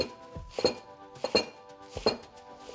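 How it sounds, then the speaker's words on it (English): A knife cuts through fresh basil on a board, giving four sharp, evenly spaced clicks and thunks, close and crisp, with soft slicing rustles between strokes. "So I'm just going to begin by running the knife through the basil."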